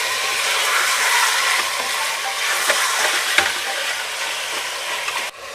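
Chicken sizzling and frying in a pan with ginger and garlic paste for a qurma, a continuous loud hiss with occasional stirring clatters and scrapes.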